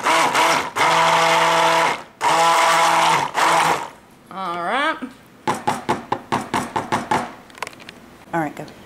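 A stick blender mixes green colorant into cold process soap, making two loud whirring motor bursts of a couple of seconds each, followed by quieter knocks and voices talking.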